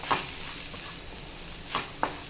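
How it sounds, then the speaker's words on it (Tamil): Gram flour stirred into potato masala in a hot pan, a soft steady sizzle with a few scraping spoon strokes, fairly quiet and close, no voices. "ஸோ இது கடலை மாவு இதில் சேர்த்துட்டு நல்லா இப்படி வதக்கிக்கலாம்"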